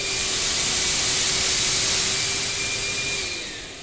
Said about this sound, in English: we're going to turn on one motor, then we're going to go to the second motor